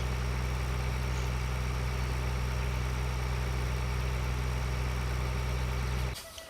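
A tractor engine idles in Farming Simulator 2013 with a steady, even mid-pitched drone that holds for several seconds, then cuts off abruptly.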